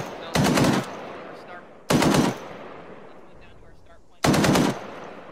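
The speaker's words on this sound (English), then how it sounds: "So, the direction the gunshots are coming from." Automatic gunfire in the Arma 3 military video game comes in three short bursts spaced about two seconds apart, loud and close, with quieter ambience between.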